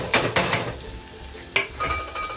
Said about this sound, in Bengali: এখন ভালো করে নাড়াচাড়া করে দেবো, ব্রাউন করে ভেজে নেবো পেঁয়াজটা